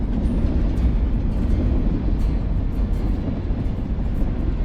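A train rolls along in a video game, a steady loud low rumble with a continuous rattling roar and no voices.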